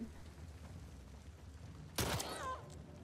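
Gunfire in The Last of Us Part II: one sharp, loud in-game gunshot bursts out after a quiet stretch, with a brief ringing tail that fades over about a second.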